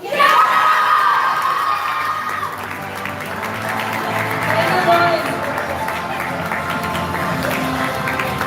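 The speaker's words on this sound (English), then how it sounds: "Give them a huge round of applause." Audience at a school Shark Tank Juniors event applauds and children cheer and shout loudly for the winning group, a dense sustained roar of clapping and whoops with a voice speaking over it at the start.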